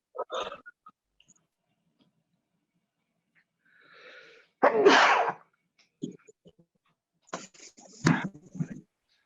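A single sharp sneeze bursts out in a quiet room during a lecture, loud and close, followed a few seconds later by a second short nasal burst and some breathy noise.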